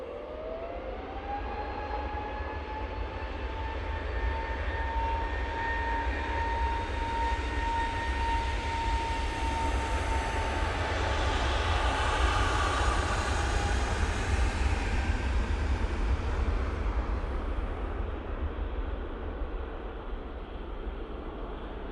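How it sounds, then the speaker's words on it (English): A Lufthansa City Airbus A320neo departs snowy Manchester Airport for Munich, its engines rising in a high whine that slides upward, then swelling into a loud roar that peaks midway and gradually fades as the jet climbs away. "Lufthansa City going to Munich now,"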